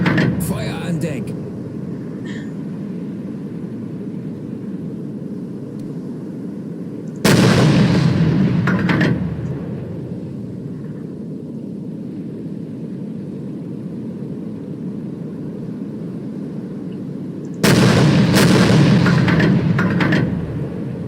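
A U-boat deck gun firing in a video game, two heavy booming blasts spaced apart, each a loud, broad burst that rumbles for a second or two over a steady engine-like drone.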